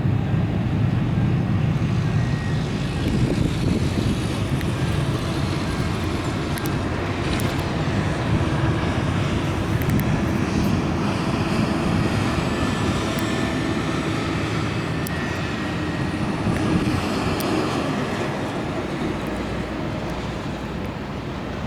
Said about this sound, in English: Looks like a private airplane.